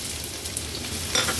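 Finely chopped large onion dropping into hot oil already tempered with bay leaf pieces, giving a steady close sizzle and frying hiss with a slight crackle near the end.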